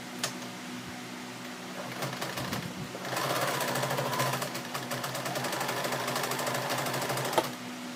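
Sewing machine stitching denim, a rapid mechanical chatter that starts and stops in short bursts, then runs steadily for several seconds, close up with no talking.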